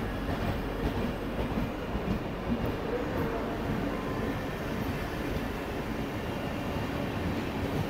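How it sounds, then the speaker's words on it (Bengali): A Duronto Express train rushing past a halted local train, a loud, steady rumble and rattle of wheels on track that fills the whole stretch without easing, heard from close by with no voices. "আমাদের লোকাল ট্রেন দাঁড় করিয়ে পাশ থেকে দুরন্ত এক্সপ্রেসকে পাস করে দিচ্ছে।"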